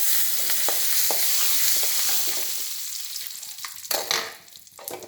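Curry leaves fry in hot oil with popped mustard seeds for a bitter gourd stir-fry. A loud, crackling sizzle at first gradually settles and fades, broken by a few spoon scrapes and clinks near the end.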